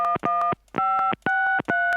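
Touch-tone beeps sound as a telephone is dialed in the Gabriel Knight video game: a series of clear, crisp keypad tones in quick clusters separated by short pauses.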